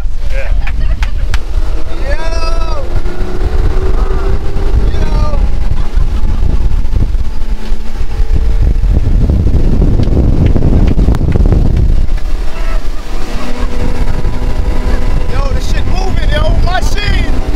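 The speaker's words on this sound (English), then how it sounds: "And then we're gonna push on the throttle." A boat engine roars under heavy wind buffeting, with voices calling out intermittently over the loud, continuous rumble.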